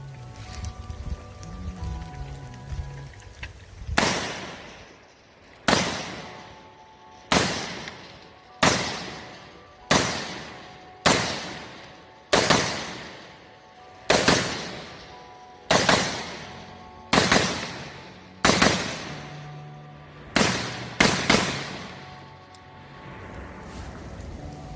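A Brownells BRN-180S piston-driven rifle fires about a dozen sharp, loud single shots at a steady, slightly uneven pace, each crack trailing off into a short echo outdoors.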